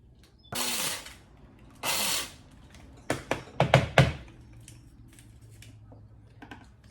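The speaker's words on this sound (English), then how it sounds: "My last grind. It's my 3rd cup of coffee that are all ground up." Coffee beans being ground to a medium grind for cold brew: two short, loud grinder bursts, followed by a cluster of sharp taps and knocks, then a quieter tail.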